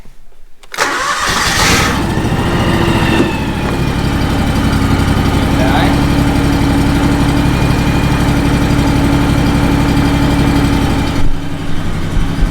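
A power washer's small engine cranks and catches, then settles into a loud, steady idle with a constant low hum that runs on uninterrupted to the end.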